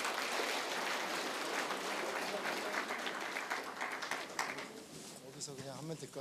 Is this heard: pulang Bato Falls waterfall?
no